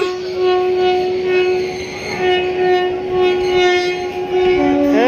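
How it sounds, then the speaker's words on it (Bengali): A passenger train pulls away from a station, its horn holding a long steady tone over the rumbling wagons. The sound is loud and close throughout, with a second horn pitch entering at the very end. "ওই যে ট্রেন চলে যাচ্ছে"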